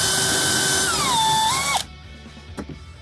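Power drill boring pilot holes into an old wooden bench being upcycled, a loud steady whine that drops in pitch as it bites, then cuts off abruptly, followed by faint knocks.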